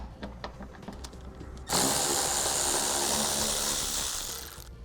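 A power tool whirs steadily for about three seconds, removing 10mm bolts from a black plastic car panel, after a few light clicks; loud and close, with no talk.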